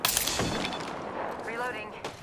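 Gunfire in the Apex Legends battle royale game, a dense burst of shots opening loud and close, then thinning into a busy mix of game effects that continues steadily to the end.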